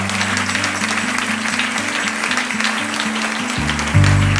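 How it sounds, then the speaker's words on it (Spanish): Applause from a church congregation during a worship service, a steady dense patter mixed with loud low organ or keyboard chords that swell near the end. "Dale otro aplauso al Señor"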